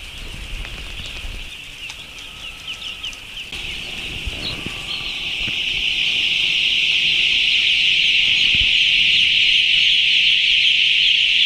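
A crowd of chicks under tube heaters at night, peeping in a dense, continuous high chorus that starts patchy with a few soft bumps and flutters, then swells into a steady loud wall of cheeping.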